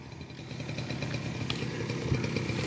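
A motor scooter engine runs steadily with a low, buzzing drone as the rider gives it throttle, close and continuous throughout without a clear rise in pitch.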